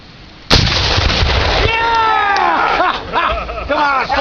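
A 1909 Krupp cannon fires once with a loud, sharp blast at an outdoor shooting, its boom rolling on briefly as people then talk and cheer over the fading echo.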